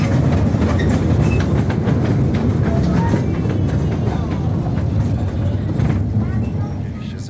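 A small railway train rumbles along with a steady, dense roar and faint rhythmic clatter, close by, while voices talk over it.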